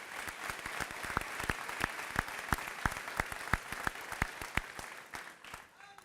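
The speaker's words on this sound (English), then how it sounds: "Let's give them another round of applause." An audience at a college commencement ceremony applauds in a steady round of clapping, with sharp individual claps standing out in the nearby crowd, continuing for several seconds and fading toward the end.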